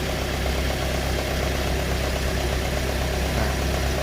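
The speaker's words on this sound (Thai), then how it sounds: "กดเปิดเครื่องนะครับ" A Toyota Altis car engine idles with a steady, droning hum that stays even and close throughout.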